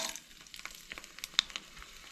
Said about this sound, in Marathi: सगळ्यान पयलीं मम्मीन तेल ऍड केला, तेच्या उपरांत मिरसांगो